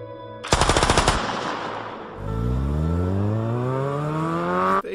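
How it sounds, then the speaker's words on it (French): Rapid burst of automatic weapon fire, about a dozen sharp close shots in quick succession, followed by a car engine revving and accelerating away with a rising whine. "un homme assis à l'arrière ouvre le feu à l'arme automatique"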